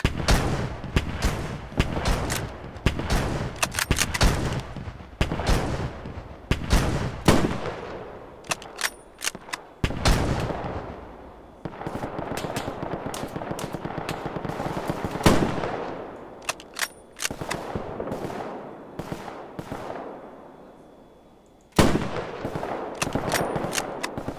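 Gunfire in the Roblox war game Guerre de l'Est 2.5: rapid, loud automatic bursts and single shots crackle in repeated volleys with short pauses, close and dense throughout.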